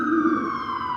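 An emergency vehicle siren sounds outside, holding a loud steady wail that drifts slowly downward in pitch as it passes, with no one talking.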